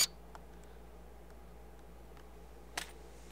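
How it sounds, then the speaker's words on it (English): A Canon T2i camera fitted with a Tamron SP 24-70 Di VC lens fires its shutter, giving a sharp mechanical click near the end after a quieter tick, close and alone in a silent room. "you're gonna hear the shutter from my T2i"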